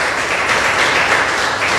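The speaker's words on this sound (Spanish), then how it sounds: "Dele un fuerte aplauso al Señor." A church congregation breaks into loud, dense applause, a steady wash of many hands clapping together without a break for the full short stretch.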